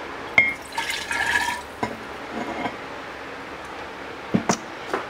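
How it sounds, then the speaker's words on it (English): Water poured from a measuring cup into a glass jar while preparing homemade kombucha, heard as short splashing bursts followed by a few clinks and light knocks, close and fairly quiet. "we're gonna add 1 cup of water here"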